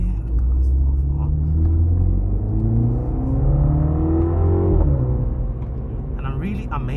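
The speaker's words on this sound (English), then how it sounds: "right now I'm actually driving in sport mode" A 2022 Mini Cooper JCW drives in sport mode, its engine giving a steady rumbling drone that rises and falls with acceleration from inside the cabin, while someone talks throughout.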